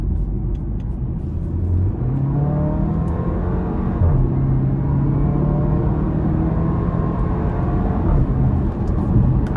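A 2024 Porsche Macan T pulls forward in traffic, its engine droning steadily from inside the cabin, with a low rising tone that dips briefly as it shifts, then climbs again. No one speaks over it.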